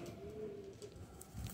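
A male teddy pigeon cooing softly, a low, smooth drawn-out coo close by against a faint background hum, no speech.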